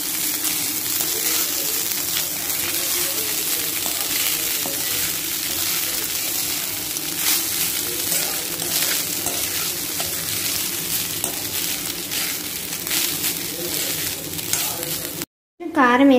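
Cooked rice stirred and frying in a pan for egg fried rice, a steady close sizzle with scraping stir strokes running throughout, briefly cut off near the end.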